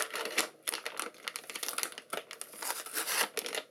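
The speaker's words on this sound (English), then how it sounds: "I apologize for crinkling." Plastic packaging wrapped around an NVidia Quadro M4000 workstation graphics card is crinkled and torn open during unboxing, a close series of irregular crackling bursts and sharp rustles with no voices.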